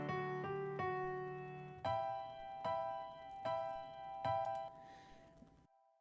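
A mono room-miked piano track, high-passed and EQ'd within a mix, plays a slow sequence of sustained chords and notes, soft and somewhat distant, ending in a brief fade to silence.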